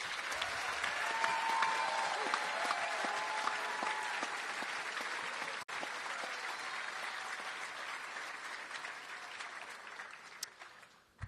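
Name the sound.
audience applause for the graduates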